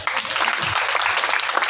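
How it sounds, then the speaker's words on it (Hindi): Audience applause at a gathering, a brief, loud patter of many hands clapping that keeps up steadily for under two seconds, with no voice over it. "भाई जोर से ताली लगा दीजिए"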